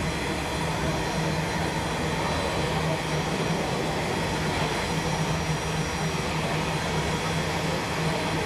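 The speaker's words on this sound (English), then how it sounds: "we see 3 units from One Rail Australia with an empty coal train." An empty coal train hauled by three diesel locomotives rolls past near a rail yard during a steam festival in New South Wales, a steady, continuous rumble of engines and wagons with faint metallic wheel squeal, sustained throughout.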